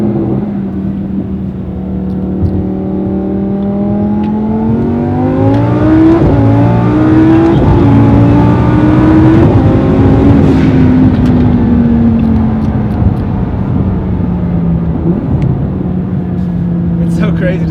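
Car fitted with a Stage 2 twin turbo package accelerating hard, a loud sustained engine drone rising steadily in pitch, easing, then climbing again, heard up close from inside.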